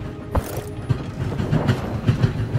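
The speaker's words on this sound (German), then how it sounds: "Und der Zug fährt unaufhörlich weiter." A train in the Voidtrain video game rolls steadily on its rails with a rhythmic clickety-clack and low mechanical rumble, loud and close, with no speech.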